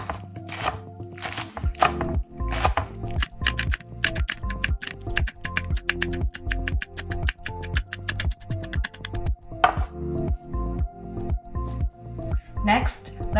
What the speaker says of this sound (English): first, I'm going to be chopping the scallions